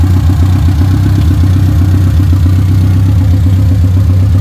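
Lancer bar type motorcycle engine running loud without a muffler, a steady close rapid thumping idle with a deep droning pulse that holds unbroken throughout.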